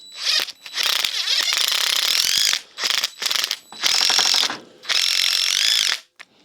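Ratcheting clicks from a wrench chasing rust out of threads on a Polaris RXL front suspension part, coming in several loud, close bursts of rapid pawl clicking separated by brief pauses.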